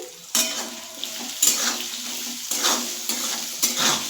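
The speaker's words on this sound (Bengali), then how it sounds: "এবার আলুটা আমি ভেজে নেব" Salted potato pieces frying in a pan for a flattened-rice muri ghonto dish, a continuous close sizzle broken by several sharp stirring scrapes at irregular intervals.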